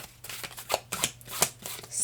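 Cards riffle and slap in quick, soft bursts, a close, quiet shuffling with short pauses between strokes.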